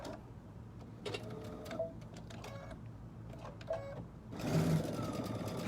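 A sewing machine stitches a tea towel into an apron in short bursts of rapid mechanical whirring separated by brief pauses, ending in a longer, louder run, all close and fairly quiet.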